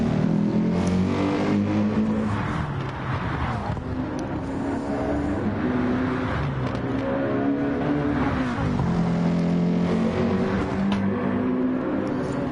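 Race cars in a 20-minute PS4 racing game run close together on lap three, their engines droning and rising in pitch as they rev and shift, loud and steady throughout.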